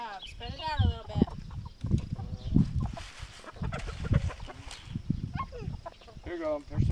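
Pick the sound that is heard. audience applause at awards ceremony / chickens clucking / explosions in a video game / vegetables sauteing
chickens clucking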